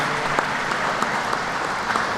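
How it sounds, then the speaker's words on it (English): An audience at a community engagement meeting claps for city aldermen, a dense, even round of applause from a crowded room that holds steady throughout. "Let's give them a round of applause for all their great work"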